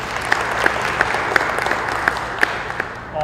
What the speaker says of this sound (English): I'd like to give another round of applause to His Worship the Mayor and his office